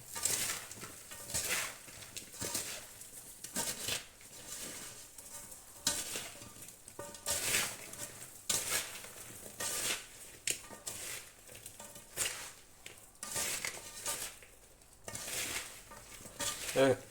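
Salad ingredients being stirred by hand after a cup of sugar is added, with a steady run of scraping, mixing strokes close by and occasional clinks against the bowl, no talk.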